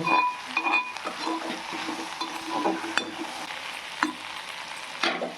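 Onions frying in a pan for bitter gourd pulusu, a steady close sizzle and crackle with occasional stirring scrapes and spoon clinks over it.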